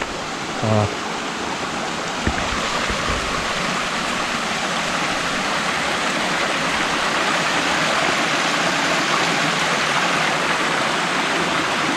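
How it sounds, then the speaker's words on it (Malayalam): Water rushes steadily at Irinchayam waterfall, a dense, unbroken roar that fills the whole stretch at constant loudness, with faint brief sounds at the start. "മുഴുവൻ വെള്ളം ഒഴുകുന്നതിൻ്റെ ആ സൗണ്ടായിരിക്കും"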